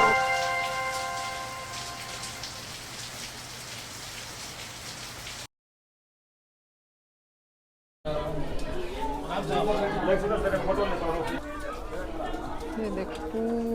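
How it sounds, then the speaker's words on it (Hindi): Heavy rain pours onto the temple steps at Pushkar during the monsoon, a dense continuous hiss with faint voices and birds in the background, broken by a few seconds of dead silence before resuming louder. "कितनी बारिश है।"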